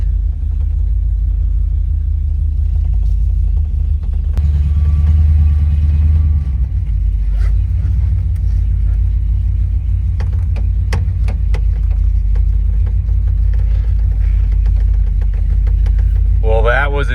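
A 1993 Chevrolet dually pace truck engine runs and drives with a loud, deep rumble that stays steady throughout, with a few knocks and rattles over it.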